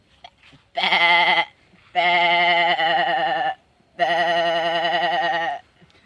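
A person's voice imitates a goat, giving three long, wavering bleats separated by short pauses, loud and close.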